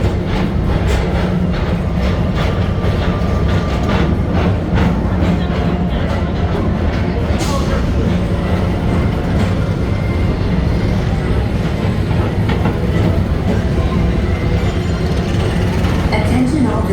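A People Mover ride vehicle runs along its track at night, giving a steady, loud rolling rumble that continues throughout, with indistinct voices in the background.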